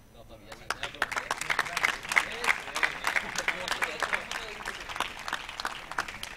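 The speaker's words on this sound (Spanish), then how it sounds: "Y con este aplauso para los campeones de España" Applause for the Spanish padel champions at the men's final of the national championship, individual claps audible in a quickening burst that swells into steady crowd clapping, fairly close and moderately loud.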